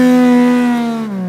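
A naked street bike's engine holds a loud, close, steady rev whose pitch sags gently over a second or so, with no voices over it.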